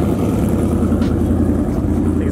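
A loud Ford SVT Lightning pickup truck idles close by at a truck meet, giving a steady, deep, throbbing rumble that carries on unbroken throughout.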